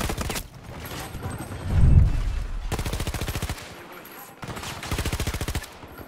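VHX rifle fired in a Battlefield 2042 team deathmatch, rapid automatic bursts with a sharp repeating rhythm, three main volleys separated by short gaps and a dull low thump between them, loud and close.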